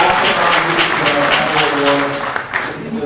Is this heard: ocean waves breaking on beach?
no